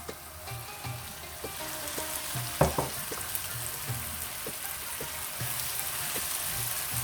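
Cut tomatoes frying in a hot pan over a high gas flame for masala bhindi, a constant fine crackling sizzle with one sharper clatter near the start and faint soft knocks, heard alone without any voice.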